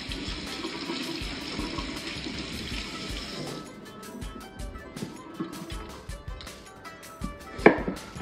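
Onions rinsed under running water in a kitchen while making Thai green curry paste, with a splashing stream from the tap at first, then intermittent handling clatter and a brief sharp clink near the end.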